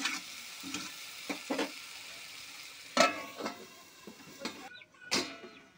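Eggplant with turmeric and spices frying in a pan, a steady sizzle broken by several sharp scraping stirs and clanks, close and fairly loud, with no voices.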